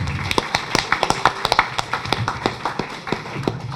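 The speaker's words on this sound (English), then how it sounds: "let's give him a round of applause" A small audience at a Brooklyn Jewish historical evening gives a round of applause, heard as a sparse, uneven run of sharp individual claps from only a few nearby hands rather than a full crowd.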